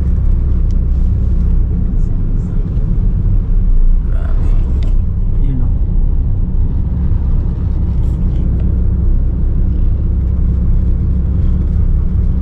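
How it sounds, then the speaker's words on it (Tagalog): Steady low rumble inside a moving car on a sunny drive, loud and constant road and engine drone, with faint voices briefly audible under it. "Ito po ay kaganapan lang to dito sa loob ng sasakyan."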